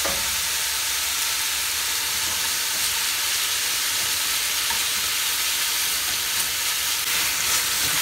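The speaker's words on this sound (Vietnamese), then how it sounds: "Các bạn xào thịt bò, các bạn để lửa to, thịt bò sẽ không ra nước" Beef stir-fries in garlic over high heat, giving a continuous, even sizzle and hiss of frying meat with occasional soft stirring, close and unbroken, with nobody speaking.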